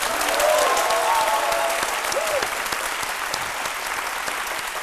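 Studio audience applauding on a French TV show, sustained clapping that swells early and then gradually tapers off, with faint voices mixed in.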